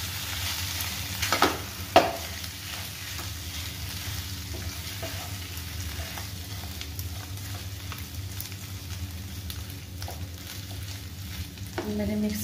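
Masala frying in a pan on a medium gas flame while being stirred for an aloo paratha and tomato chutney recipe, a steady close sizzle with occasional scraping stirs and a couple of sharp clinks.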